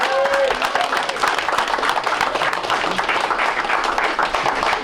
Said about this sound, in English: let's all cheer for Michael to give it a good spin